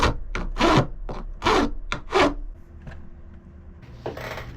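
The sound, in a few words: cutting a piece off a T-track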